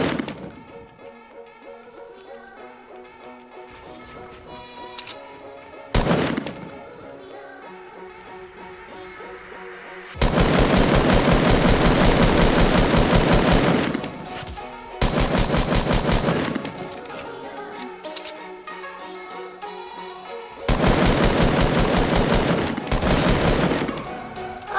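Rapid automatic SMG fire from a new submachine gun in Fortnite, in loud sustained bursts of several seconds each with short gaps between, set over game music and ambience.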